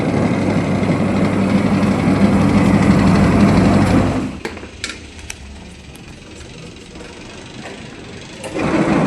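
A repaired Sanken twin-tub washing machine runs with a steady loud motor hum and churning for about four seconds, then cuts off, leaving quiet room tone with a few faint clicks.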